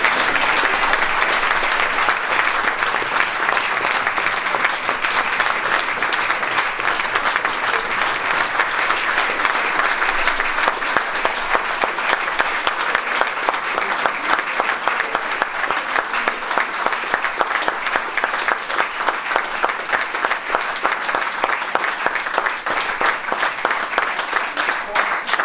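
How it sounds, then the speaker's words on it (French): Sustained audience applause for Léa Fernet at a special Octobre Rose evening show, dense steady clapping filling the room for the whole stretch, loud and even with a busy crowd texture and no break. "Je t'invite à me rejoindre et nous allons l'applaudir"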